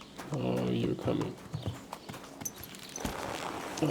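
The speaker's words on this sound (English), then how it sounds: "Come on, horse." A horse clip-clops along in the medieval game Kingdom Come: Deliverance, its hoofbeats moderately loud under a voice talking over the game audio.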